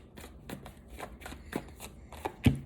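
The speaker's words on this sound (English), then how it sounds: "I'm doing all this shuffling" A deck of tarot cards is shuffled by hand in repeated riffling strokes, about eight evenly spaced swishes ending in a sharper knock as the deck is squared, close and clear with no talking.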